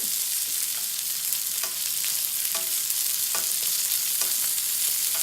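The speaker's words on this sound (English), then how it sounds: "your steak is eventually getting even browner in that color as that butter just heats it up" A steak fries in butter in a hot pan with a constant dense, crackling sizzle up close, broken by a handful of sharp spattering pops, no voices.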